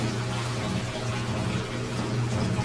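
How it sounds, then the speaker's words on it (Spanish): A washing machine in a cartoon runs with a steady, loud, water-like rushing hum that continues unbroken throughout. "¡Es la lavadora!"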